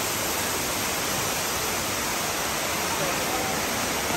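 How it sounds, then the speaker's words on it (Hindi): Waterfall at Gardens by the Bay in Singapore in the evening, a loud, steady roar of falling water that fills the whole scene with unbroken rushing noise. "शाम का खूबसूरत मंजर विद अ ब्यूटीफुल वाटरफॉल"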